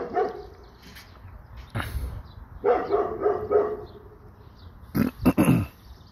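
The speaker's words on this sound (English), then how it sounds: "What are you barking at?" Dogs bark in short bursts: a single bark, then a run of three or four quick barks and a closing cluster, loud and close against a quiet background.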